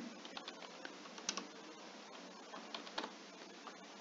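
Rapid, irregular clicking of a computer keyboard being typed on, keys tapping steadily with a few louder strokes, close and alone with no speech.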